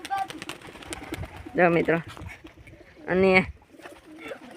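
Pigeons kept by a fancier coo in two distinct bursts, close and clear, between stretches of someone talking nearby.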